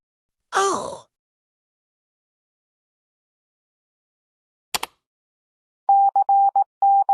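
An Emergency Alert System alarm tone plays as a run of loud, clipped, evenly pitched beeps near the end, after a brief wailing voice and a short click amid silence.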